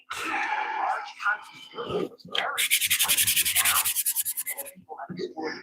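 Sandpaper of 240 grit rubbed back and forth over wood in a workshop, a dense run of quick rhythmic strokes that comes on after some muffled handling noise and then stops, with faint movement afterward.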